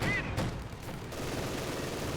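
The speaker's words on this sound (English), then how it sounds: "I can use this PPSH small arms fire" PPSh submachine gun small arms fire in Company of Heroes 2, a dense rattling fusillade of rapid shots filling the short stretch, loud and continuous amid battlefield noise.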